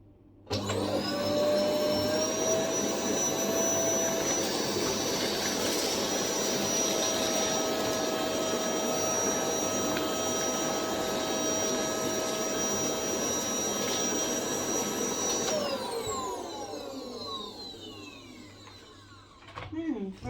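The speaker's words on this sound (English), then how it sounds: "Hoover Whirlwind." A Hoover Whirlwind vacuum cleaner runs at a steady, loud whine with a constant motor drone for about fifteen seconds, then shuts off and winds down with a falling pitch.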